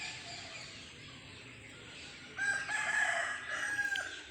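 Faint background ambience gives way to a native rooster crowing at a distance, with soft clucking from native hens around it.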